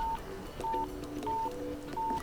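Keypad button tones on a Samsung A400 mobile phone: four short beeps spaced roughly two-thirds of a second apart, each a brief clear tone, heard close over faint background noise.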